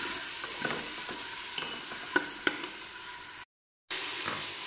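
Chicken with garlic fries and sizzles in a pot for haleem, a steady close hiss with a few soft stirring clinks, then a brief silent break before the frying resumes.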